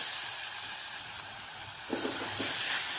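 Chopped plantain sautéing in hot ghee in a pan gives a steady close sizzle throughout, joined by a few brighter crackles and scraping stirs in the last second.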